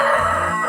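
A Cuckoo Marans rooster gives a short, loud crow right up close, a brief harsh burst heard on its own.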